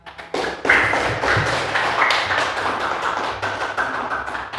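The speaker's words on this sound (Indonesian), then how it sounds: "Beri tepuk tangan." A burst of classroom applause starts after a brief pause and continues steadily, many hands clapping together in a room, without speech over it.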